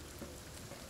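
Rain falls in the video game The Forest as a brief, steady, even hiss of drops, with no voices.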